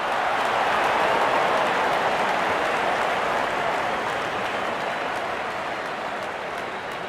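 A crowd at a cricket match between India and New Zealand applauds, a dense, steady wash of clapping that holds loud and continuous throughout, easing off only slightly toward the end.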